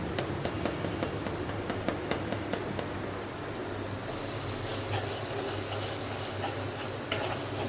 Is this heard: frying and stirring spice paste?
yes